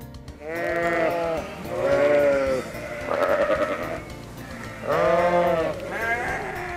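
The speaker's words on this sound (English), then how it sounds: "Sheep." A sheep bleats repeatedly in loud, wavering calls, four or five close bleats with brief gaps between them.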